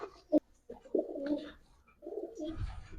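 Pigeons, including highflyer and racing breeds, coo close by in a few low, throaty phrases with short gaps between them, plus a brief soft rustle.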